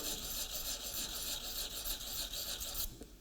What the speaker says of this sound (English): So it's cutting on the forward and the backward stroke because these are diamond particles.